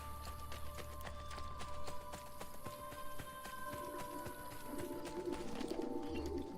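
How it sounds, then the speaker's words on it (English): Pigeons at a coop in the video game Assassin's Creed Brotherhood give soft, low repeated coos, fairly quiet against a faint ambient game background with some light footstep-like clatter. "There's a pigeon coop."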